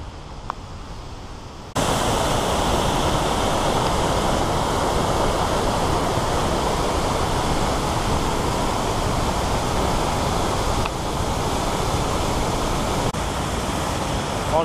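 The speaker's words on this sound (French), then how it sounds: "Petite cascade d'eau" A small waterfall on a hiking trail roars steadily as a dense, continuous rush of falling water, loud and close, rising sharply after a quieter opening moment and holding constant throughout.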